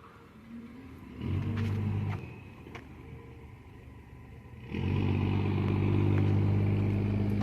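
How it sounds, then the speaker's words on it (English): An old tractor engine runs with a low, steady rumble, swelling louder twice as it revs up, the second surge holding strong to the end. "That is an old hunk of tractor."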